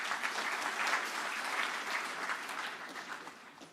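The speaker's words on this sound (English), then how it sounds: "And let's clap for Safaricom." Audience applause at a university innovation and exhibition week event, a steady crowd of hands clapping together for several seconds, moderately distant, fading slightly at the end.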